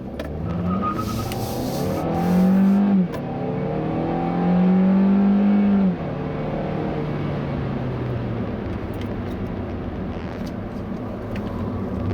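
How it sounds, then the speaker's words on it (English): Tires squeal from poor grip on a 2017 Hyundai Elantra Eco 1.4T, rising, wavering whines over the engine, two loud peaks followed by a fading screech. "you can hear these tires complaining because they have such terrible grip"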